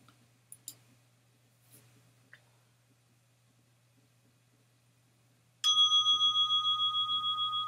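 After a stretch of near silence with a few faint clicks, a single bell marking the start of a prayer period is struck and rings out clearly, sustaining a bright shimmering tone to the end.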